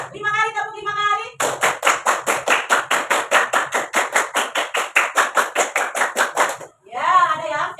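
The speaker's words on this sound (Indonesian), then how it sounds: "tepuk 5 kali" A classroom of students claps a rhythm together, a run of about twenty loud, evenly spaced claps, with a voice speaking just before and after.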